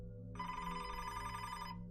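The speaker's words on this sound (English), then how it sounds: "the phone would ring" A telephone bell rings in a steady electronic trill lasting nearly two seconds, close and fairly loud over a low background hum, with no one talking.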